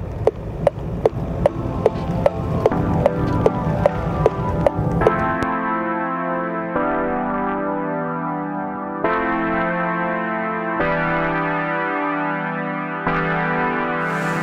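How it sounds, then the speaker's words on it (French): Turn-signal ticking from a 2024 Citroën SpaceTourer Holidays camper van plays loudly through the cabin speakers as a fast, regular series of sharp clicks over the first five seconds. Sustained tonal chime-like sound follows. "c'est le bruit du clignotant"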